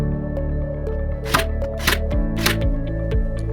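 Scrap wood boards being hand-nailed, with several sharp hammer knocks in an uneven sequence over a low steady hum, close and fairly loud, and no one talking.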